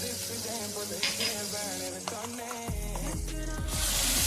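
Oil and onion-tomato masala paste sizzle in a wok while a utensil scrapes and stirs, with clattering metal knocks toward the end; no talking.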